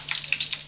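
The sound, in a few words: curry leaves added to hot coconut oil, sizzling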